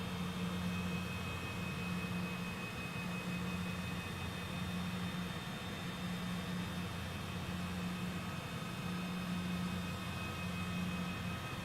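Jet airliner engines idling at airport gates in Microsoft Flight Simulator, a steady droning whine with a constant high tone and a faint pulsing low hum, unbroken and even in level throughout.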